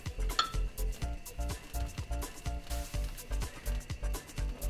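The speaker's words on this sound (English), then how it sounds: "So that's pop that in and give it a stir" A pound of linguine pasta is stirred in a pot of water with a utensil, giving steady, rhythmic metallic clinks and scrapes against the pot at a close distance, with no talking.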